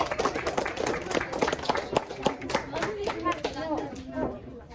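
A crowd claps for Amber, a volunteer at a live science show: a burst of close, dense hand clapping with cheering, while a presenter's voice talks over it.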